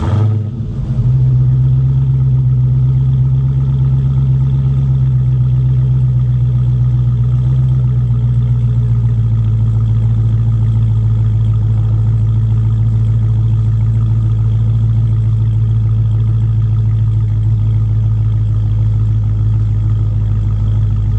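A supercharged Dodge Hellcat fires up by remote start with a brief crank, then settles into a loud, steady, deep idle rumble that drops slightly in pitch after several seconds, heard close with no talk.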